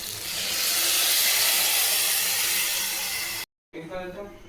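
Ground greens added to brinjal frying in oil, producing a loud, steady broad hiss and sizzle that cuts off abruptly, followed by a quieter simmer.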